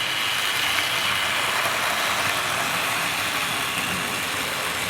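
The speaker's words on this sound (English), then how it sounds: "Starting to pick up a bit of speed now as the motor runs in" A Wrenn Castle Class model locomotive's electric motor whirs steadily as the engine runs on a Tri-ang Super 4 double track loop. The sound is a constant, close, hissy drone with no talking.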